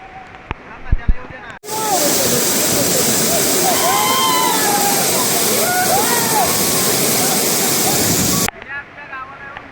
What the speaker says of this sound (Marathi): वरतून पाणी पडतंय